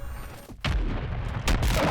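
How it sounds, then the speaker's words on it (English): In Modern Warfare, an MGB nuke drops with deep, heavy booms, one around midway and a second, louder blast near the end, close and rumbling with no talk over them. "I gotta shoot the pumpkin right when the MGB is dropping"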